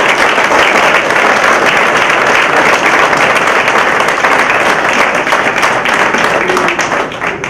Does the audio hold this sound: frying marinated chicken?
no